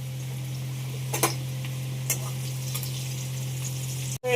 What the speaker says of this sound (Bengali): এখানে এখন আলু ভাজা হচ্ছে।